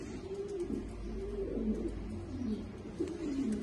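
A pair of meat-breed pigeons coo softly in repeated low, rolling phrases, close by and fairly quiet, with no other sounds competing.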